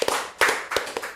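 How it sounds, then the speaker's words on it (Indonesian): A handful of distinct hand claps from a small studio audience at a talk event, sharp separate slaps in an uneven rhythm, close and clear with no voices. "tepuk tangan dulu semua"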